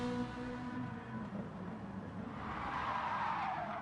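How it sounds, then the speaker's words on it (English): Tires of a Ferrari 458 skid and squeal through a corner at Brands Hatch in Gran Turismo Sport, a rising drawn-out screech over engine drone with no talk. "sliding through that corner like that, definitely not going to help with tires"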